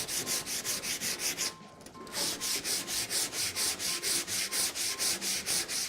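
Sandpaper rubs back and forth over old wooden furniture in a fast, regular rhythm of close, loud strokes, broken by one brief pause before resuming.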